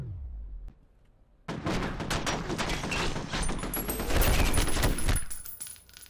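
Sustained gunfire in the shooter game F.E.A.R., a dense, loud barrage of rapid shots lasting several seconds after a brief quiet start, then tapering off.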